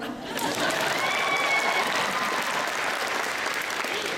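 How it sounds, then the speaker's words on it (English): Audience applause at a Comicon panel in Phoenix: a dense, steady wave of clapping from a large room that swells quickly and holds for several seconds. "You were interrupting the applause"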